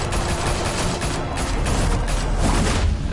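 Sustained gunfire barrage in Batman: The Telltale Series, a dense, loud continuous wash of shots and booms rolling on without pause for the whole stretch.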